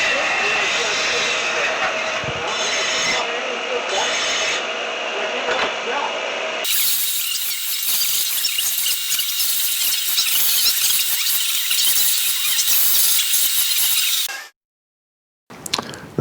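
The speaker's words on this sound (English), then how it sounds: "This is a belt sander." A belt sander grinds the sharp edges off freshly cut metal in a workshop, a loud, steady whirring hiss that shifts pitch as the piece is pressed on, then stops abruptly, leaving a few small clunks.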